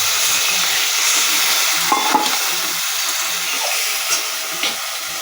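Water poured into a hot pan holding a little sugar, while cooking a vegetarian dish with fritters, gives a steady, loud, broadband sizzle throughout with a few brief sharper crackles, and no talking.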